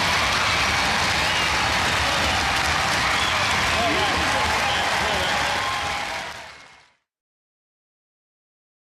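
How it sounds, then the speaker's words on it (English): A crowd at a robot combat event applauds loudly with dense steady clapping for several seconds before it fades out into silence. "Ladies and gentlemen, give them a round of applause."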